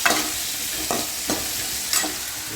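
Chopped onion and tomato fry in a pan for radish sambar, giving a constant close sizzle broken by a few distinct scraping stirs at roughly regular intervals, with no voices.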